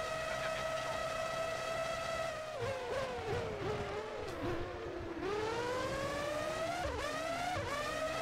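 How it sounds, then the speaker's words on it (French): A Formula One race car engine idling in the PS2 game Formula One 03: a high, buzzing drone holds steady, then wobbles and surges in pitch with revving blips, continuous and fairly close. "Entendez ce bruit de moteur à l'arrêt"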